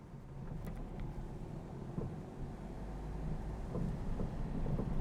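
A car engine rumbles low and steady while accelerating during a driving lesson, the drone swelling gradually louder toward the end with no talking over it.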